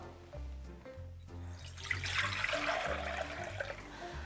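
Water pours steadily into a pot for Korean fish cake soup made with an all-purpose broth, a continuous splashing stream running the whole time with no voices.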